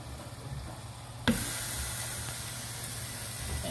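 Butter-stuffed hamburger patties hit a hot grill with a sudden sharp sizzle that settles into a steady, bright hiss for several seconds, close and alone with no talking.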